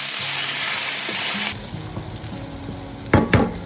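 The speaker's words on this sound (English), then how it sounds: "Stir until the onion becomes translucent and soft." Minced garlic and onion sizzling in a pan with a steady frying hiss that drops off partway, followed by soft stirring scrapes and a couple of sharp utensil knocks near the end.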